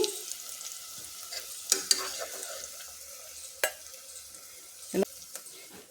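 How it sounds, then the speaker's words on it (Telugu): Onions frying red in a pan for mutton curry, a soft continuous sizzle with occasional spoon taps and scrapes against the pan, close and fairly quiet, no speech. "ఉల్లిపాయలు అయితే ఎర్రగా వేపుకున్నానండి ఇలా ఎర్రగా వేపుకోవాలి"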